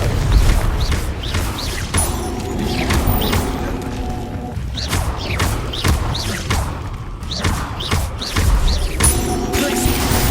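Fire blast spells from the Confringo curse in Hogwarts Legacy go off again and again, each a sharp thump or boom, mixed with combat clatter and faint game voices over a busy, continuous battle.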